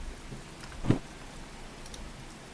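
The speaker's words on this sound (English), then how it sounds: "Unfortunately, it is raining." Faint, steady rain in the train-simulation game Derail Valley, a soft even hiss throughout with one brief louder spatter near the one-second mark, no voices.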